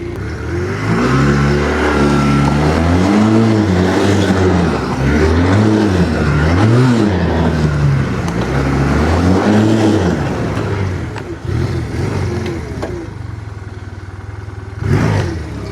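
A Chinese-made ATV engine revs repeatedly in rising and falling surges while riding, loud and close, with the clutch slipping, then settling into a steadier drone before a final brief burst.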